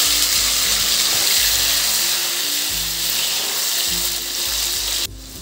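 Chopped onion and tomato hit hot oil with cumin and bay leaf on a lowered flame, giving a loud, steady sizzle and fry crackle that runs on evenly and then drops off sharply near the end.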